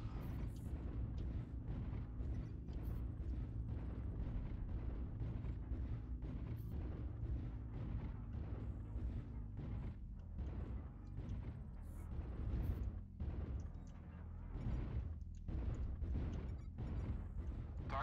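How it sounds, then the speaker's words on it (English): Artillery strikes pound a video game battlefield in a loud, continuous barrage: deep rumbling booms and crackling blasts overlap throughout, with sharper bursts standing out now and then. "Artillery strike activated."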